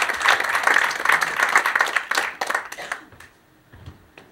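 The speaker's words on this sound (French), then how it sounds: "Applaudissez-le fort." Audience applause and clapping in a French live show, a lively burst of many hands for about three seconds that then thins out to scattered claps and fades.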